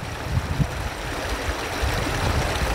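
Water running through village drainage channels into a river in coastal Konkan makes a steady, broadband rushing wash with low gurgling swells throughout.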